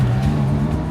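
A car engine drones steadily at mid-low pitch while driving on a road in Dubai, close and continuous with no talking.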